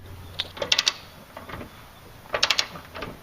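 A ratchet wrench tightens a front control arm bolt on a Jeep WJ resting on the ground with its suspension loaded, giving two bursts of quick, close metallic clicks separated by a short pause, with faint scraping between them.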